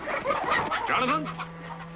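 Hens cluck and squawk agitatedly inside a hen house, a close burst of overlapping warbling calls with a voice mixed in.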